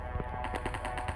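Rapid gunfire from a gun in a video game, a quick run of sharp shots about every tenth of a second, fairly faint and steady across the short burst.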